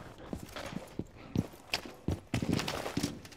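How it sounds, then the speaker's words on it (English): Footsteps in the video game Rainbow Six Siege: a string of irregular thudding steps with sharp clacks, moderately close, amid faint game ambience and no talk. "Oh, you hear footsteps."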